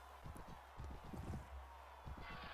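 Horse hooves in Mount and Blade Warband beat out a steady, rapid clip-clop of a galloping mount, fairly faint under a noisy battle background.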